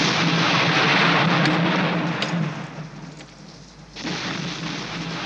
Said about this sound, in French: tu reconnais pas le bruit de l'éclair?